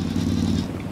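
A llama-shaped bike in Ghost Recon Wildlands, set on Narco Road, gives out a steady bleating, goat-like drone that runs unbroken and loud for under a second, with no talk over it.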